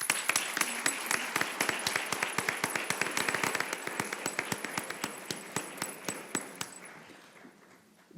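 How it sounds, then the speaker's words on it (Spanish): An audience at an academic panel on bioethics and artificial intelligence applauds the speakers, rapid hand claps forming a dense, steady patter that gradually thins and fades toward the end. "Un fuerte aplauso, por favor."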